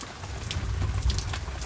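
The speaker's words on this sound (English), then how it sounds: "there's more than rain coming down there." Rain falls steadily in an even, dense hiss with a low rumbling undertone. It holds at constant strength throughout, with no voices.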